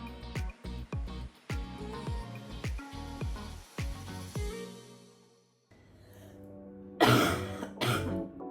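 A person with a lingering illness coughs and clears the throat, several short harsh bursts in a row, close and fairly loud, with background music and room sound around them.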